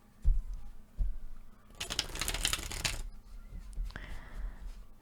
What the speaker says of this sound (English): So I'm gonna pull 4 cards.